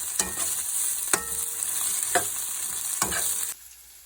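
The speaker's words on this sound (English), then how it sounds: "the reason you don't want to disturb your meat and just want it to cook" Lamb meat sears in a pan with a strong, steady sizzle and four evenly spaced utensil knocks, then the frying drops away abruptly near the end.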